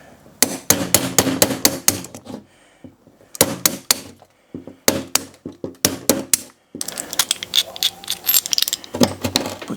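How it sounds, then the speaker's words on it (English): Clusters of sharp, rapid hammer blows ring out close by as a toggle bolt is hammered into a wall, broken by short pauses, followed by scraping and knocking of metal against the wall. "If I was to beat it in there, right, this is how I would do it"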